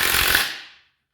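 Ozito 18V 3-speed 400 Nm cordless impact wrench driving a bolt into wood, a loud close burst of rapid hammering that stops abruptly and rings off within a second.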